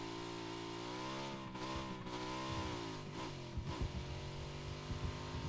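A motorcycle engine in the video game PUBG drones and revs up and down with a steady harmonic whine, shifting pitch as it accelerates, loud and close.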